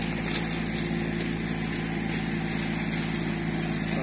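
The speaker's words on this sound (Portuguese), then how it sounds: "Esse trator azul aqui a gente tem só para fazer esse tipo de trabalho, trabalho mais leve com a roçadeira," A blue tractor runs with a brush mower (roçadeira) clearing undergrowth on an African mahogany farm, its engine a steady, loud, continuous drone with a constant harmonic hum throughout, no speech.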